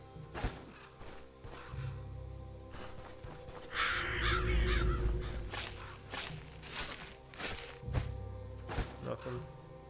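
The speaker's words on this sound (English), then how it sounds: "there's gonna be a couple more crow sounds" Crows cawing in the video game StoneShard, sharp repeated calls over a low ambient bed with thuds and footsteps, and a voice speaking partway through.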